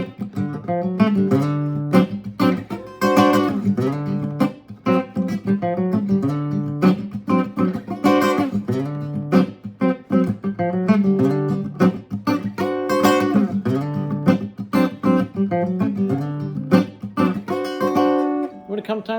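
Electric guitar, a steady, busy run of plucked notes and riffs with walking runs up to the seventh chord, loud and close, played alone without talk.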